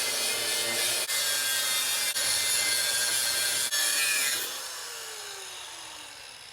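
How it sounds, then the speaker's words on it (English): A saw cuts through a Ford 8.8 axle housing held up on jack stands, a loud steady metallic rasp with a few brief breaks, then it winds down and fades out with a falling tone near the end. "I'll have this piece still supported by jack stands to cut the center section out"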